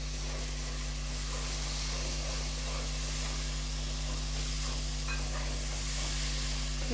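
Coriander leaf and green chili paste with turmeric frying in a pan, a continuous close sizzle and hiss at a steady level throughout, with a constant low electrical hum underneath and no speech.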